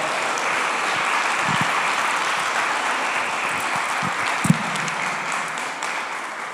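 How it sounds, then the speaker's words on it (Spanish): A church congregation applauds during a Spanish-language sermon, a steady wash of clapping held evenly throughout with a few louder nearby claps popping out. "Démosle un aplauso al Señor por esta verdad espiritual."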